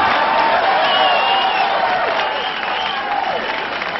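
Audience at a bodybuilding event applauds and cheers continuously, a dense, steady wash of clapping and crowd noise with no break.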